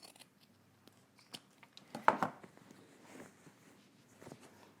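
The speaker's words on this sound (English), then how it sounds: "I'm gonna trim the other corner." Scissors snip through the corner of sewn fabric near a zipper, a few quiet, brief cuts close by in an otherwise hushed room.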